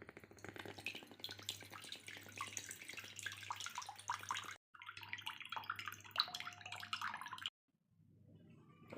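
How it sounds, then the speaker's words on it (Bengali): Green coconut water pours from a freshly cut coconut in a close, trickling splash that stops briefly, resumes, then cuts off into near silence. "ডাব কেটে নিয়েছি, এখন পানি ঢেলে নেব।"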